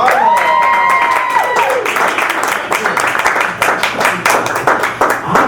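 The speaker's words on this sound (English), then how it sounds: "Give a huge round of applause for Sean Arnold." Audience at an NLP training class claps loudly for a presenter, a dense burst of applause with a few cheers and whistles early on, steady across the room and gradually thinning.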